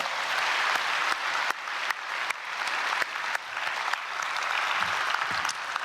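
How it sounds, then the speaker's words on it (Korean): Congregation applauding the education department choir in a church during a dawn prayer service, a steady, dense clapping that holds at full strength for about six seconds. "박수로 축복하겠습니다."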